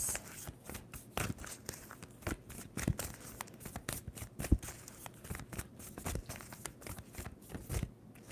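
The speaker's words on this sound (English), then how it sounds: "Two more shuffles." Tarot cards are shuffled by hand in a quick, irregular run of soft papery riffles and slaps, close and fairly quiet, with no talking.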